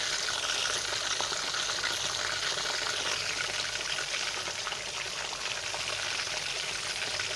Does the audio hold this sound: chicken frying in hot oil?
yes